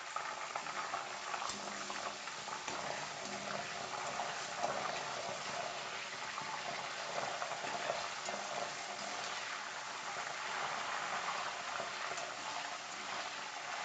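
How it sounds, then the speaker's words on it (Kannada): Salt water hits jackfruit chips frying in hot oil, setting off a steady, dense sizzle and bubbling that holds level and close throughout, with no voices. "ರೆಡಿ ಮಾಡಿಟ್ಟ ಉಪ್ಪು ನೀರನ್ನು ಇದಕ್ಕೆ ಹಾಕಿಕೊಳ್ತಾ ಇದ್ದೇನೆ"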